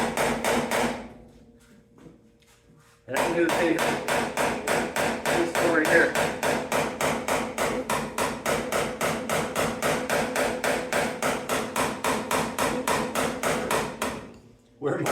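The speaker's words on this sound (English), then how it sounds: "I'm going to take a hammer and dolly and cut out some high spots. It's going to be noisy." Hammer and dolly pounding out high spots in a car body panel: loud, rapid metallic blows in a steady rhythm for most of the span, after a pause with brief speech near the start.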